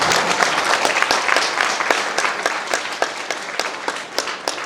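Audience applause at a satsang in Varanasi, Uttar Pradesh, a few minutes of dense, brisk clapping that stays lively throughout with some scattered sharper claps.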